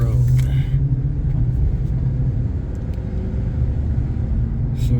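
A 2005 Chevy Avalanche pickup driving on the road, a steady low engine and road rumble heard from inside the cab with brief voices at the start and end.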